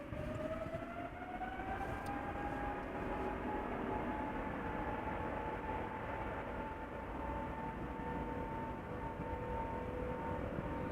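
A 19-year-old KLM Boeing 777-200 departs Schiphol's runway 36L, its jet engines giving a steady, droning growl with a slowly rising tonal whine, moderately distant and continuous.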